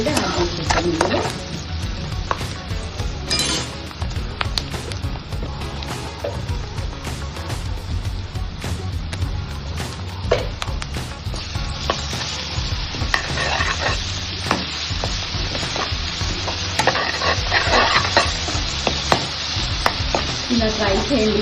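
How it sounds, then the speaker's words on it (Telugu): A spatula scrapes and stirs turmeric and ginger paste through onions frying in hot oil for mutton fry, with repeated clattering strokes against the pan over a constant close sizzle and no talk. "పసుపు వేసుకొని కలుపుతాం"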